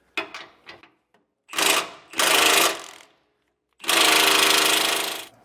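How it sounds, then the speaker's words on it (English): Pneumatic impact wrench breaking loose a blue-Loctite-coated sway bar bracket bolt on a 2023 Ford E-Series van, with a few light clicks followed by three loud, close hammering bursts, the last one longest. "I did have to switch over to our air tools instead, just to have enough strength to actually break that free"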